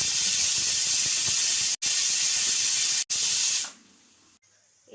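A pressure cooker of rice vents a loud, steady steam hiss in long bursts, broken by two brief gaps. It then drops abruptly to a faint residual hiss.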